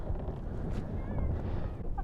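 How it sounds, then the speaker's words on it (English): Strong wind in -11°C cold buffets the microphone in a steady low roar, rumbling and gusting throughout with no clear pauses. "Bloody windy though."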